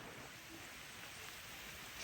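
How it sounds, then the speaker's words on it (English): A steady, dense hiss of heavy rain falling in Tbilisi, Georgia fills the air without a break, fairly soft and even throughout. "It's raining quite heavily now."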